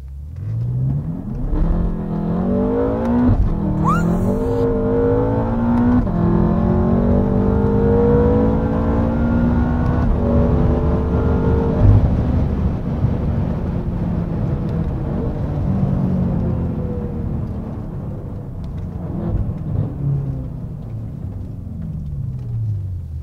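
A BMW M5 F10 accelerates hard, its engine note rising steadily through the gears with loud, continuous revving and a brief shift break early on, heard close from inside the car.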